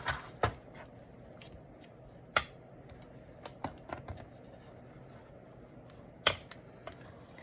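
Scissors snipping paper to trim a folded piece for a faux stained glass flip-out page, scattered sharp close snips with pauses between them over a quiet background, no talking.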